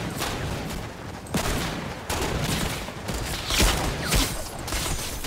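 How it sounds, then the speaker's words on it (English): Dense, chaotic gunfire in the Fortnite video game as several players brawl, with repeated overlapping shots and bursts of rapid fire continuing throughout at steady loudness. "Someone's shooting me."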